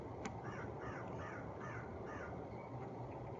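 Crows caw in a quick series of hoarse squawks, faint and somewhat distant over a low background hiss.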